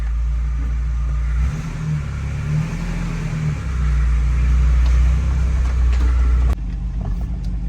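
A Geo truck on a test drive, its engine droning loudly and close inside the cab and rising in pitch as it accelerates, with a heavy low rumble, then a sudden change in engine tone near the end.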